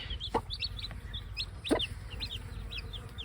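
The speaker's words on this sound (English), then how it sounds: "I hope I can integrate some more chickens in with Miss Speckle." A broody hen, Miss Speckle, clucks softly and steadily while her young chicks peep in rapid high cheeps all around, with two sharper louder calls breaking through.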